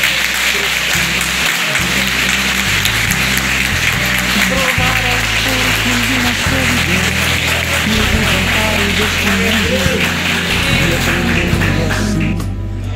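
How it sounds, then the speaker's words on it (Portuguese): A congregation at an evangelical Congregational church in Monte Castelo applauds during a baptism night service. The dense, steady clapping fills the room loudly for the whole stretch, layered over sustained low keyboard or organ tones. "E a igreja aplaude ao Senhor."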